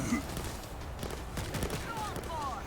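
An automatic gun fires in the zombie video game World War Z, a sustained rattle of rapid shots under game noise, with a voice talking over it.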